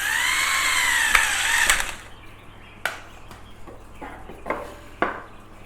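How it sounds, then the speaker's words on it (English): A loud whining power drill pre-drills wooden braces for a cage stand, running steadily for about two seconds, then several short sharp knocks and brief bursts follow against a quiet background. "let me go ahead and pre-drill these braces"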